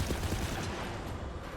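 Steady burst of weapon fire in Borderlands 3, close and fairly loud, forming a continuous fusillade with no pauses.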